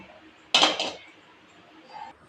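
A metal wok is set down on a gas stove in a home kitchen before frying onion vada, giving one short, close metallic clatter with a brief rattle, followed by near silence.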